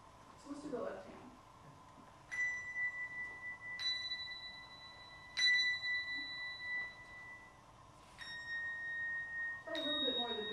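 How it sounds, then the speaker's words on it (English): Two handbells held in one hand ring out in a handbell lesson, five or six clear strikes spaced a couple of seconds apart with long sustained tones, heard alongside soft speech. "Play a little bit more of the big bell."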